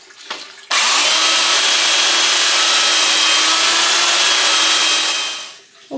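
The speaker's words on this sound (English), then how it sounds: "this is hardwood oak, so I'm going to sand the old finish off it a little bit" A power sander strips the old finish off hardwood oak boards, starting abruptly and running loud and continuous for several seconds before winding down.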